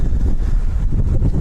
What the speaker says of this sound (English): for a extremely windy afternoon game drive. It's literally howling out here at the moment.